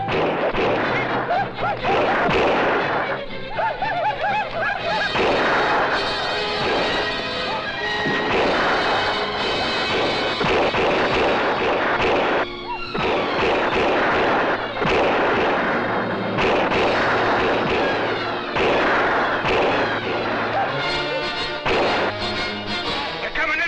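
Artillery in a western film fires repeatedly in heavy, booming blasts with crashes and thuds, continuous loud bombardment throughout, with voices briefly heard among the shots.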